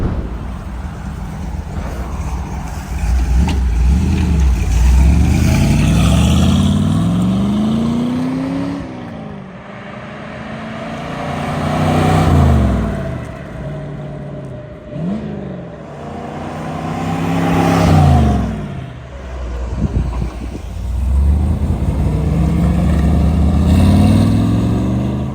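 A 1952 Allard J2X with a 340 hp Hemi V8 makes repeated loud flybys, its engine rising as it approaches and dropping away as it passes, several times in a row.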